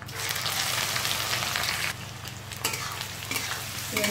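Onion tipped into hot oil already holding red chilli and bay leaf, a steady loud sizzle with spoon scrapes and stirring clatter close by, the frying hiss dipping briefly before surging again.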